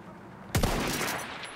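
A single sharp crack of a bolt-action rifle in Battlefield 1 gameplay hits suddenly out of quiet, then trails into a long, rolling echo that fades slowly.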